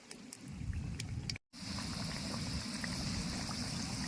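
Layered kachori fry in oil that is not very hot, making a faint, steady bubbling hiss with a brief dropout near the start.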